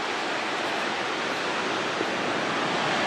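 Waterfall in the Adirondacks of New York roaring in a steady, dense rush of falling water, loud and close with no break across the whole stretch.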